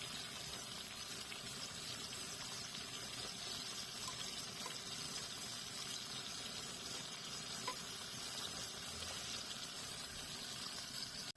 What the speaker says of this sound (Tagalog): isusunod ko naman prinito yung mga gulay pero hindi lahat. Itong carrot at saka patatas lang.